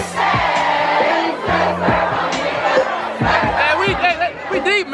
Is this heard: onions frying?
no